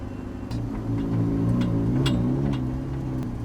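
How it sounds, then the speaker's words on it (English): Ferrari 488 Challenge EVO race car with a V8 engine idling steadily nearby, a deep continuous rumble that swells slightly with light blips of the throttle. "Hear the sound, the V8, Ferrari."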